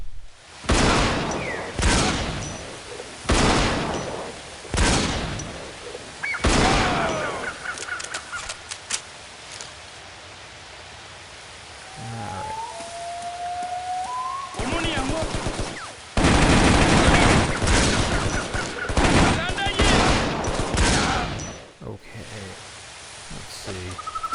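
Repeated loud bursts of rifle and automatic gunfire ring out in the shooter game Shadow Ops: Red Mercury, with a quieter gap between volleys and some talking in the middle.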